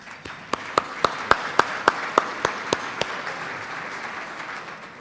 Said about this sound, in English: So again, a round of applause for all of those corporate and individual sponsors.